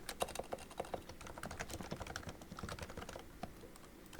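Quick, light keystrokes tap out on a computer keyboard, a fast irregular run of close, quiet clicks with no talking.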